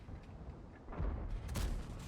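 Tank cannon fire from a T110E5 in the video game World of Tanks comes as two quick, muffled booms, faint and heavy, with no talking.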